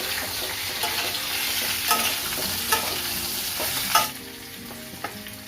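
Stuffed eggplant sizzles as it is stirred with masala in a frying pan, a steady hiss broken by several sharp scraping strokes of the spoon, close and with no talk.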